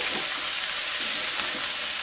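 Cauliflower florets frying under a lid in a pan over high heat give a steady, soft sizzle with a hissy crackle that runs evenly throughout, close and with no voices.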